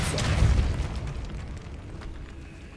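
The Depulso spell goes off in the video game Hogwarts Legacy as a single deep blast, a loud booming burst at the start that rumbles and fades over a couple of seconds.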